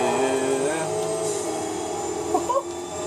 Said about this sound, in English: I love the noises that a Viper makes.